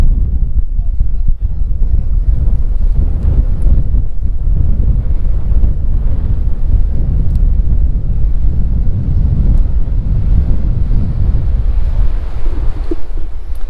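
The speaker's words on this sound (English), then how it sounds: "So we hope the wind noise is going to be tolerable" Heavy, constant wind on a beach buffets the microphone, a loud low rumble throughout with no breaks and faint surf-like wash beneath.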